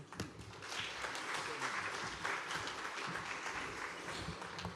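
Audience applause after a panel presentation at a tourism resilience conference: steady, dense clapping from a crowd, fairly faint and distant, lasting the whole stretch.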